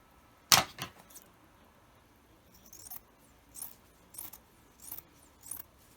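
Scissors snip through the selvage edges of cotton fat quarters, a sharp cut near the start and then a run of lighter, evenly spaced snips, close and crisp in a quiet room.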